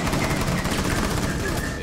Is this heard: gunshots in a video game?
yes